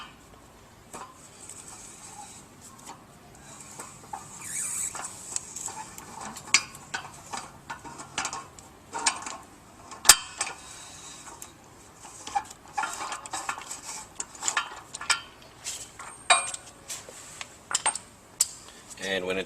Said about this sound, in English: we'll use a 41mm socket to loosen the shaft seal